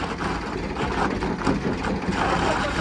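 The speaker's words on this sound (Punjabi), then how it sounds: "ਦੇਖੋ ਟਰੈਕਟਰ ਆਪ ਜ਼ੋਰ ਮਾਰ ਰਿਹਾ ਤੇ ਟਰਾਲੀ ਇੰਚ ਨਹੀਂ ਹਿਲ ਰਹੀ" A tractor engine labours under load against a trolley held by pressure brakes, a loud, steady low rumble that holds constant throughout with no voices.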